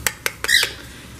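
A pet cockatiel lets out a short, sharp squawk right after three quick clicking taps, close and fairly loud, with no talking.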